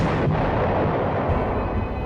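A sustained deep roar of an atomic bomb detonation from World War II footage, loud and continuous without a break, rumbling heavily throughout.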